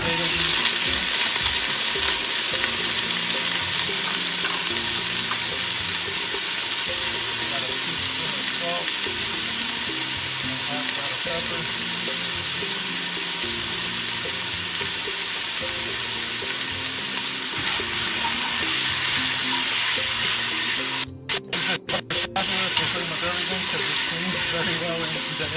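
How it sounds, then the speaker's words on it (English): Diced vegetables and potatoes saute in a full pan for homemade chicken noodle soup, giving a loud, steady sizzle and hiss that runs throughout, with brief stirring clatter near the end. "And we'll just let that saute real nice."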